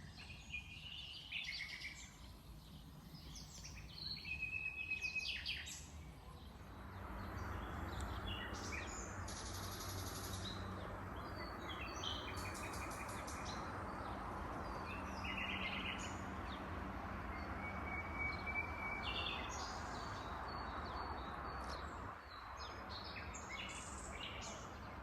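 A nightingale sings close by outdoors, with varied whistles, trills and chirps repeating in phrases over a steady background hum, loud and clear, with no voices.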